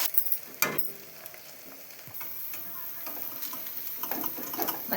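Corn bajji fritters sizzle steadily in hot oil, with a continuous crackling fry punctuated by a few sharper pops and stirring clicks close by; no one speaks.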